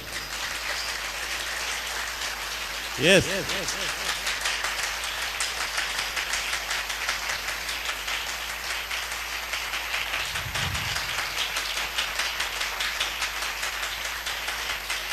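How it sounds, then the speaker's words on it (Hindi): A church congregation at a prayer and fasting service claps loudly and continuously for a long stretch, a steady rain-like wash of hands, with a short shout and a brief voice cutting through. "जितने मसीह यीशु से प्यार करते हैं वो जोर से ताली लगाएं।"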